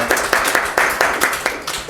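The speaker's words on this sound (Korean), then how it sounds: "우리 하나님께 영광의 박수 올리겠습니다." A church congregation at Sunday worship claps in unison, with steady rhythmic beats at roughly four to five per second, close and fairly loud, with no voices over it.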